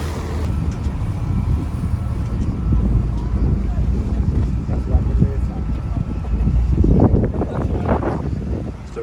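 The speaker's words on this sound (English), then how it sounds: "It's a bit windy now." Wind gusting across a lakeside spot, a steady broadband rush buffeting the microphone for the whole stretch, swelling louder near the end.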